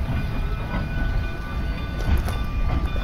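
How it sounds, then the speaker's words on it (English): A train on the Cumbres and Toltec railroad rolls past nearby, a continuous heavy rumble that swells slightly toward the end. "let's go follow the train, I guess"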